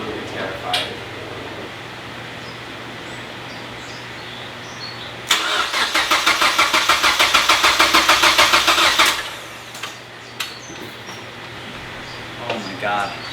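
A car engine fitted with a swapped 2.5 cranks for several seconds in a rapid, loud, even rhythm, then stops without catching, leaving quiet background with a few faint clicks and knocks.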